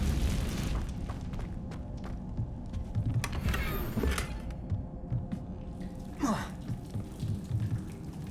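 A Confringo blasting spell detonates in the Hogwarts Legacy video game, a single booming burst near the middle rising out of a dense, rumbling game soundscape, followed by a brief sweeping whoosh.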